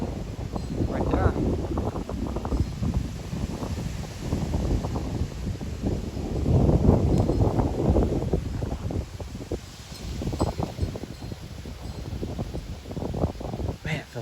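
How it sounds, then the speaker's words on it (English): Cool wind blows outdoors in hot Texas weather ahead of a rain storm, a steady rushing buffet on the microphone that persists throughout while someone talks over it. "it feels so good when it's freaking 90 degrees and this cool wind air comes in"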